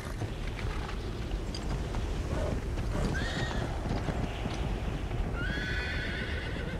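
Bedouin horses walk with steady clip-clop hooves over a constant outdoor rumble, and a loud whinny breaks out midway, followed by another neigh near the end.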